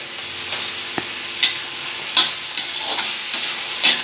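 Salted tomatoes frying in a pan, a gentle continuous sizzle punctuated by a handful of sharp spatula taps and scrapes at irregular intervals, close and with no voices.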